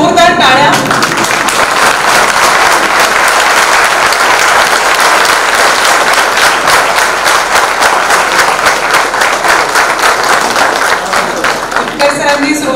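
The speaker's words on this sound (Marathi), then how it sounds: "एकदा जोरदार टाळ्या." Loud, sustained applause from a large audience at a memorial address honouring an institute's founder, dense and even throughout before easing slightly at the very end.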